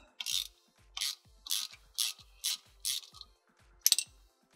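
A hand ratchet loosens a field winding bolt on a golf cart, clicking in about seven quick, evenly spaced bursts of rapid pawl ticks, close and clear with no voices.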